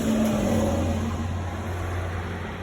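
A large vehicle roars past nearby, its engine hum and tire rush loud at first, then easing off slightly.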